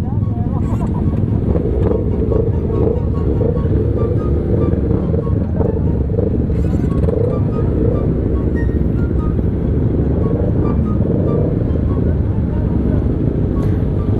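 Sport motorcycle engines, including a ZX25R, a CBR250RR and an R25, run loud and close in a steady rumbling drone throughout, with voices talking over the noise.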